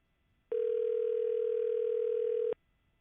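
A single steady electronic telephone tone sounds for about two seconds, clear and even, then cuts off into quiet.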